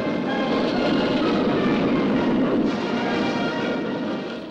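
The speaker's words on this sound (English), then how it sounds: "overhead flew 10 long-range Tu-95s, capable of delivering a nuclear bomb all the way to America." Ten Soviet Tu-95 long-range bombers pass overhead in a steady, loud, continuous engine roar that holds level and fades slightly at the end, with no voices.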